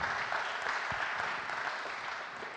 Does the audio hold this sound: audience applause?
yes